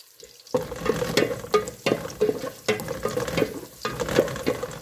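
Sliced fresh garlic and onion fry in olive oil for Filipino chicken adobo. After a brief quiet start, a close, busy sizzle runs with repeated stirring scrapes and clinks of a utensil in the pan.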